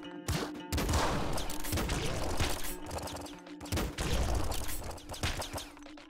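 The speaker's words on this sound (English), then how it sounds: "That's a quad machine gun," A quad machine gun in Nuclear Throne fires in dense rapid bursts of crackling shots that stay loud and continuous, broken by brief gaps, with game effects layered over it.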